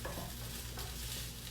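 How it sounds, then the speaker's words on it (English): Browning onions are stirred in a hot pan, with a loud, close, continuous sizzle and scraping of the spoon across the pan, and no talking. "Oh, my onions are browning away. Hold on here. Let's stir those."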